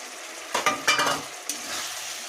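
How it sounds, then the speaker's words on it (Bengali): Small-fish curry with spices, tomato and chopped coriander leaves gets stirred in a hot pan: a few quick scraping strokes over a steady frying sizzle, close and without talk. "ভালো করে নাড়িয়ে নেব মশলার সাথে"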